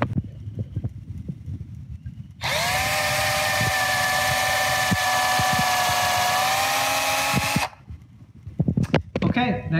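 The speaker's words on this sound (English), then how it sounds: "I'm going to be drilling here and going right into the edge of that vertical 1x3" A power drill bores a pre-drilled countersink hole into the edge of a wooden 1x3 for a mobile wall, its motor whining in one steady, loud run of about five seconds, with handling knocks before and after.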